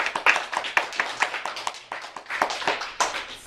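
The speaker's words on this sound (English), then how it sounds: "let's give a round of applause." A small group claps at a school showcase, with loose, uneven handclaps that are close and clear, some sharper individual claps standing out, and the applause thinning toward the end.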